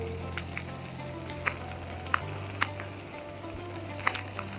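Biryani being stirred in a pan with a spoon on a switched-off stove, soft scattered scrapes and clicks over a quiet low hum.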